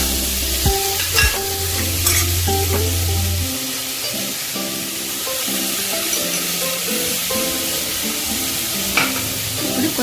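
Ingredients for pappu charu, a lentil dish, sizzle in a pan while being stirred. A loud low hiss opens the clip, then continuous frying crackle follows with clinking stirring strokes, close up and without speech.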